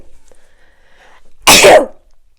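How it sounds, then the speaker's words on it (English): A single loud, close sneeze bursts out after a quiet pause, sharp and breathy, then fades quickly. "I feel like I need to sneeze again."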